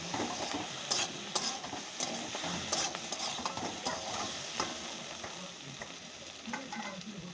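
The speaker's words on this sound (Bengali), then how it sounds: "এবার নাড়াচাড়া দিয়ে দেবো ভালো করে" A spoon stirs a sizzling mixture with salt and turmeric in a frying pan, giving a steady, close oil crackle with intermittent scraping clinks of the utensil against the pan.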